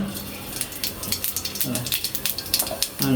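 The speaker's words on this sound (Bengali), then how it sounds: "একটু বেশি করে তেল দেওয়ার পরে হয়তো জিরা দিয়ে দিতে হবে তেলটা একটু গরম হলে হবে না তেলে দিতেছি" Cumin seeds dropped into hot cooking oil in a home kitchen give a steady, close crackling sizzle with scattered small pops, while a voice talks over it in short bursts.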